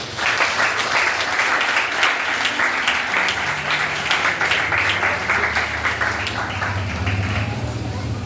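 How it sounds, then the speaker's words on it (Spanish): A church congregation claps for the Lord during a Spanish-language service, sustained loud applause with voices and a low tone continuing underneath. "Un aplauso al Señor"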